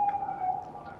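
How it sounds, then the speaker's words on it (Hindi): An ambulance siren in Makkah during the Hajj season sounds a single sustained wailing tone, moderately near and clear, briefly cutting off at the end. "आप देख रहे हैं सामने वो ना एम्बुलेंस जा रही है।"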